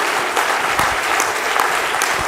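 Steady audience applause fills a live comedy show in Nashville, a dense, close wash of clapping that holds at an even level throughout with a few sharper individual claps standing out.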